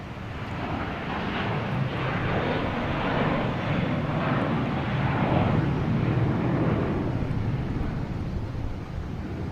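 A JetBlue airliner at Boston Logan Airport gives a steady, broad jet roar that holds loud and even for the whole stretch, with a slight swell midway and no voices over it.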